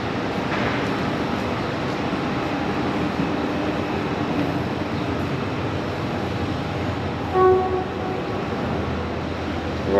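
A train runs near Makkasan station in Bangkok, a continuous broad rumble of rolling stock that stays steady throughout, with a brief louder swell near the end.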